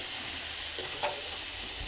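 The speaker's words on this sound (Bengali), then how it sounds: "নুন আর হলুদ দিয়ে ডিমগুলো একটুখানি ভালো করে লাল লাল করে ভেজে নিচ্ছি" Eggs seasoned with salt and turmeric fry in a pan with a steady, close, continuous sizzle and hiss, with a brief stirring scrape partway through and no talking.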